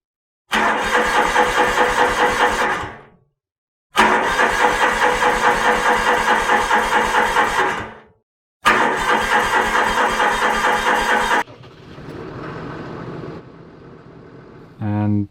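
A New Holland T7 260 tractor engine started with a key: three loud cranking starts with a rhythmic chug, each cut off by silence, then the engine settles into a quieter idle before a short final rev.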